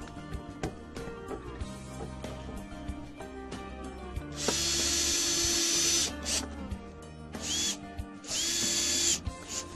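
Power drill driving screws into the top board of a wooden raised vegetable planter, with two sustained whirring bursts plus a shorter one, close and loud, amid lighter clicks and handling knocks.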